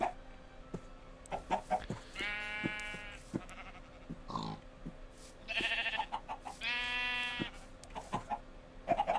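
Chickens in Minecraft Skyfactory 3 cluck in short repeated bursts, mixed with bleating from sheep and other farm animals, fairly close and clear with no talking over them.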